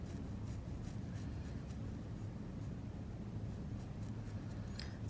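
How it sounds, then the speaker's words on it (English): Pen drawing a triangle on a sock, a quiet scratchy scribbling of short strokes against soft fabric, faint and close. "I'm going to draw it first instead of just freehanding it."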